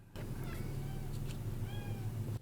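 A cat meows a couple of times in the background, faint rising cries over a steady low hum.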